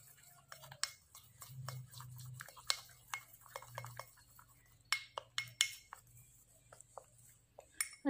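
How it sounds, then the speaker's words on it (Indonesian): A homemade teeth-whitening mixture of toothpaste is stirred in a small container, giving soft scattered clinks and scrapes of a utensil against glass, close and fairly quiet, with no talking. "Kemudian bahan ini kita aduk dulu."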